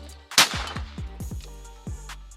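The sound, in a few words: shotgun shot from a Mossberg sub-gauge shotgun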